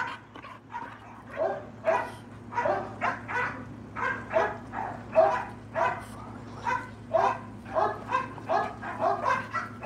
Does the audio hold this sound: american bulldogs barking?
yes